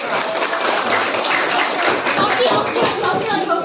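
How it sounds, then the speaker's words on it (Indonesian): A class claps for the winning group in a school lesson, steady applause of many hands mixed with students' voices throughout a few seconds. "Tepuk tangan buat kelompok"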